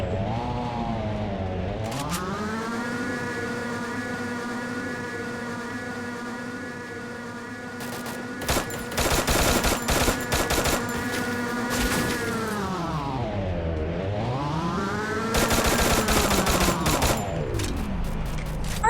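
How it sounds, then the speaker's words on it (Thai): Rapid gunfire bursts in the Free Fire video game crackle over a steady droning vehicle engine that rises and falls in pitch, the shots clustering in two loud volleys. "มีคนยิงมาจากทางด้านหลังครับ ไม่รู้ว่าตรงไหนนะ"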